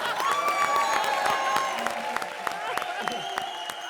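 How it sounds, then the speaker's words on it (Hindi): Studio audience applause on a Hindi television comedy show, a dense wash of clapping with some cheering, loud and continuous throughout. "तालियां"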